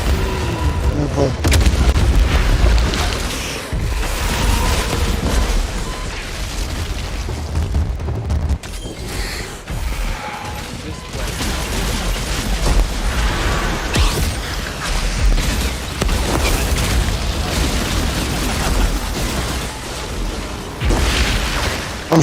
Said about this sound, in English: I'm shooting that grenade.